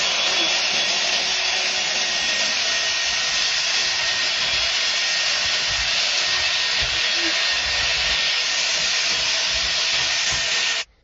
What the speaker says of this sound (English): I'll go ahead and vacuum some of this sand